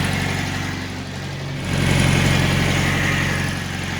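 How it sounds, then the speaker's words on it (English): A 1968 VW Bus engine idles steadily with a low, pulsing rumble that swells a little louder midway and then settles back. "So now I just got to dial in the idle"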